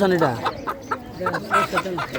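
Chickens cluck in quick, repeated bursts close by at a poultry and pigeon market, with people talking in the background.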